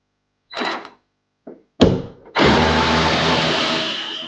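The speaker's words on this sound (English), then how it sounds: "There's going to be a few bolts here. We're just going to have to unbolt." A power tool whirs in short bursts and then runs steadily while bolts are removed from the taillight of a Toyota Tacoma, loud and close with brief gaps between the first pulls.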